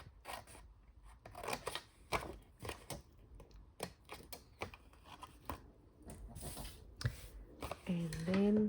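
Paper being angle-cut with scissors for a library-pocket style craft, a string of quick crisp snips and rustles in irregular rhythm, close up, with a person talking throughout.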